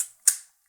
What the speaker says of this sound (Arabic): الدراع اللي بتسحب الفيلم